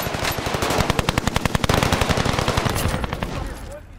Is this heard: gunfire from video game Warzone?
yes